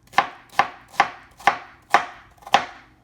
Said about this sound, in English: go ahead and cut those out before you slice your cucumber